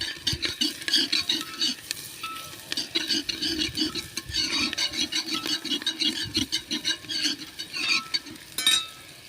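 Garlic and onion fry in a pan while being stirred continuously, with a scraping, clattering spoon over a soft sizzle, close and busy throughout.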